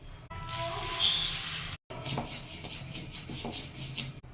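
Fifty grams of cleaned sesame seeds dry-roasting in a pan give a steady soft hiss and sizzle with light scraping, close and continuous, broken by a brief silent gap, while a voice talks over it.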